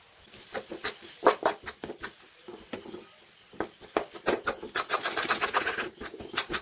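Masala and salt are stirred in a cooking pan, giving a run of quick scraping, tapping strokes that come in uneven bursts, close and fairly loud, with no talking.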